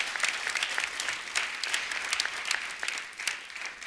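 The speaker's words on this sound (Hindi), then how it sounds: "जोरदार तालियां विशाल के लिए।" A studio audience at a comedy talk show claps loudly and steadily for about four seconds, a dense, continuous patter of many hands with no talking over it.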